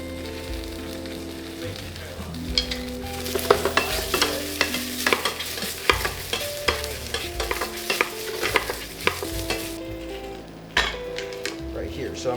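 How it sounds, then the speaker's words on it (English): Ginger and garlic sizzle and crackle in a pot for a Taiwanese beef noodle soup, with repeated spoon scrapes and stirring clinks through a steady frying hiss, and background music playing throughout. "I'm also gonna throw the garlic in because I think it's almost that time."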